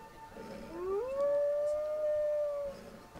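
A dog in the Skyrim video game lets out one long howl that rises and then holds steady over quiet game ambience before fading, with no talk during it.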